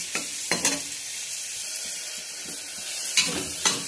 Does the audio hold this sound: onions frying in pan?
yes